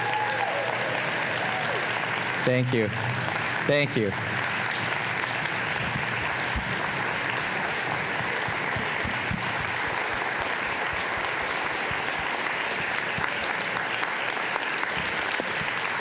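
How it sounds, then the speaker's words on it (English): An audience at a 2024 integration summit applauds its graduates with sustained, even clapping that fills the room. A nearby voice briefly says thanks early on, then the applause continues steadily. "How about a nice big round of applause for all of our graduates?"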